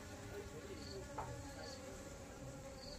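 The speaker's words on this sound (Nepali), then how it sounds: "यहाँ मौरी आउँदै रहेछ" Bees arriving at a wooden hive box, with scout bees inspecting the entrance outdoors: a steady, close insect buzz and hum of many wings, continuous and fairly even throughout, with no talking.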